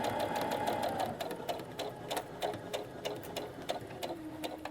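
A sewing machine stitches the seam of a fabric grocery tote, a fast, steady mechanical whir with regular clicking bursts, close and moderately quiet, with no talking.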